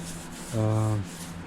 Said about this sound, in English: I'm using this big old thing to sand